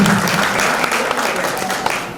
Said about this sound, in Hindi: तो एक बार उनके सम्मान में तालियां बजा दीजिए मेरी तरफ।